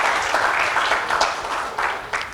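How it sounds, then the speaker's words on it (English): An audience at a talk on nutrition work by NGOs applauds a speaker being welcomed, dense steady clapping from many hands that fills the room for a couple of seconds. "Let's welcome Damian with an applause"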